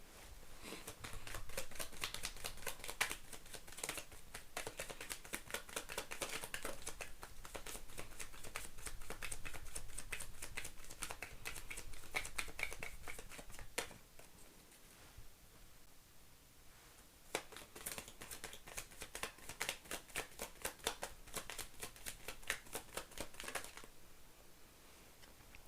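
Tarot cards are shuffled and drawn, a faint, dense patter of soft card flicks and riffles that runs in bursts with short pauses, quiet and close.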